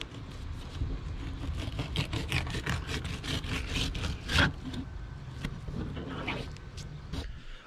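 A knife cutting the skin off a fresh fluke fillet, a run of close scraping and sawing strokes, irregular and fairly loud, with no talk.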